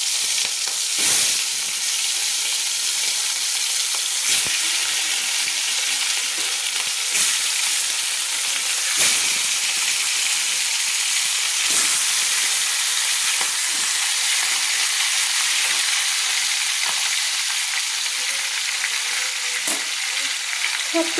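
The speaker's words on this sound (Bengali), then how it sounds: "এবার আমি এই মাছের মাথার টুকরোগুলো ভেজে নেওয়ার জন্য ছেড়ে দিচ্ছি।" Marinated fish head pieces frying in hot oil give a loud, continuous hissing sizzle with occasional sharper pops and crackles, heard alone and close.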